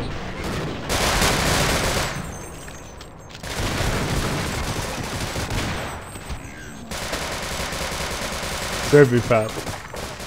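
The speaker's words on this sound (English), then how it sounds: "They threw like a dozen grenades up there" Grenade blasts and gunfire in a Half-Life: Blue Shift firefight played in Sven Co-op, loud bursts of booms and rattling shots in three dense stretches, with a voice speaking briefly near the end.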